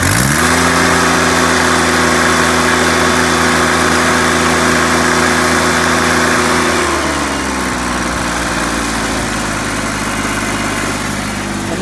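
A John Deere 322 garden tractor engine runs loudly at high revs nearby, then its pitch drops as the throttle eases back toward a lower drone.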